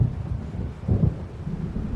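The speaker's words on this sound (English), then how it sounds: "It seems there's a storm coming." An approaching storm in the video game Alan Wake Remastered brings a low, rolling thunder rumble that swells briefly and then settles, with a faint wash of rain beneath it.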